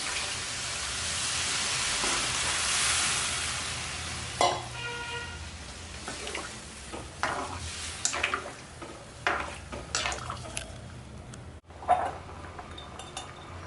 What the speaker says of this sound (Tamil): இப்போ புளியை கரைச்சி வச்ச புளியை ஊற்றிக்குவோம்